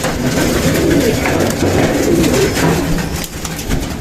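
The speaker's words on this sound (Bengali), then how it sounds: "এই মাদিটা অনেক ভালো একটা কবুতর" A female pigeon coos in low, rolling, repeated calls close by, loud and steady throughout.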